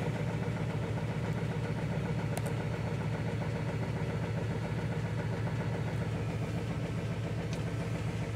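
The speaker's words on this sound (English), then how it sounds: "So that's how you start your no glow plug diesel in the coldest shit temperatures and get it going." A diesel engine with only one glow plug idles after a hard cold start at -6 °F helped by ether, giving a steady close rumble with an even knocking pulse and no voices.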